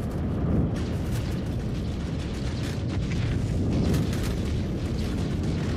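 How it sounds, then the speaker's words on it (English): Missile explosions in the video game Star Citizen, fired from a red Constellation Andromeda ship, heard as a continuous dense roar of booms and rumbling blasts that stays loud throughout, with no talk. "we got a red Constellation Andromeda firing missiles at us"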